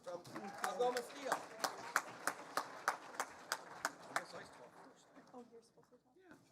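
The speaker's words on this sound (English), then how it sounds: "Laura Devoni, give a round of applause from Algoma Steel." Scattered, distinct claps from a small audience at a chamber of commerce business awards ceremony in Sault Ste Marie, a dozen or so sharp hits in a loose rhythm amid murmuring voices, tapering off as talk resumes.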